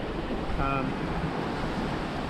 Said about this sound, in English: we've been clocking along at up to 10 knots. She's absolutely flying.